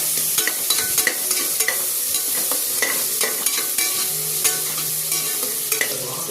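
Onions and green chillies sauté in a hot pan, a dense sizzle broken by frequent sharp scrapes and taps of a spoon stirring, close and fairly loud, with no talking.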